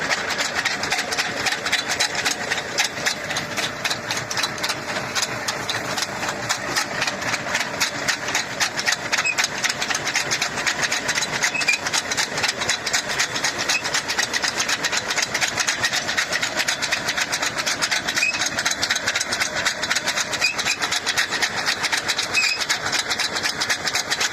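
An engine runs steadily while a machine digs potatoes in a field, a close, continuous mechanical drone with a fast regular knocking pulse throughout.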